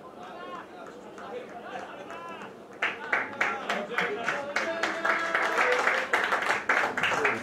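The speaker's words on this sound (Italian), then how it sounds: "numero 9, esce tra gli applausi" Applause from a crowd at an under-18 Bologna versus Atalanta football match as the number 9 player leaves the field, starting faintly and swelling into steady clapping over commentary.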